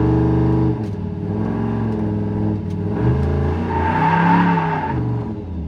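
A car engine revs against a transbrake while held on pressure. The steady, close engine drone climbs and builds in intensity toward the end, with no talking.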